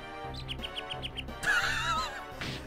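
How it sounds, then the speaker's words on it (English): Repeated high chirps from insects in the video game Sakura Wars 5, a quick rhythmic series of short calls over a low game tone, followed by a louder burst of bright chattering. "I don't like chirping bugs!"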